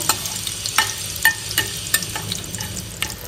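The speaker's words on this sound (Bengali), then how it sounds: "বড় এলাচ ফাটিয়ে সব দিয়ে দিলাম। এটা একটু ভেজে নেব" Whole spices and black cardamom fry in hot oil in a pan, a soft continuous sizzle punctuated by regular crisp scrapes and taps of a stirring spoon.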